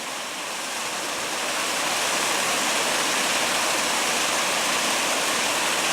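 A three-tier waterfall in a steep canyon on the Crispus Trail pours in a loud, steady, unbroken roar of rushing water that swells slightly at the start and then holds constant, with no voices.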